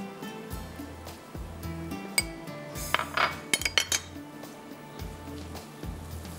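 A utensil stirs chicken with red chilli, salt and garam masala in a pan, giving irregular metallic clinks and scrapes against the cookware. A cluster of sharper clinks comes near the middle, and no one speaks.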